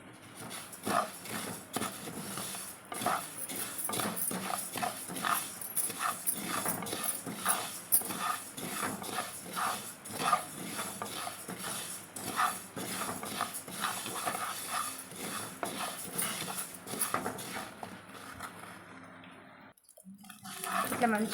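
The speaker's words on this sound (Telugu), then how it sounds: "ఇప్పుడు మెంతులు వేసి వేయించుకోవాలి." Fenugreek seeds fry and are stirred in a hot pan while making avakaya mango pickle, giving a dense, steady crackling sizzle with scattered sharp pops that runs nearly the whole time and dips briefly near the end.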